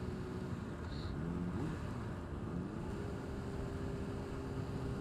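Honda CBR600RR motorcycle engine running steadily with rev changes as the rider downshifts, close and loud, mixed with constant rumbling wind buffeting.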